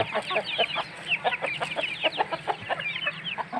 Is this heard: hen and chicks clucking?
yes